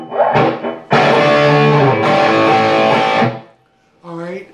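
Distorted electric guitar from a song: a quick percussive chuck, then a long, loud, overdriven chord ringing into D for about two seconds before cutting off, followed by a short sliding note.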